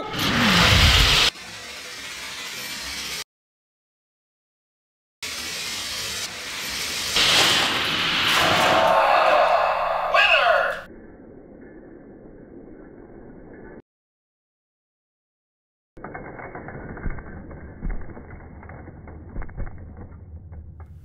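Hot Wheels die-cast toy cars, a top fuel dragster against a funny car, race down a plastic track with bursts of rattling, whirring wheel noise, broken by two silent gaps and followed by a quieter mechanical buzz.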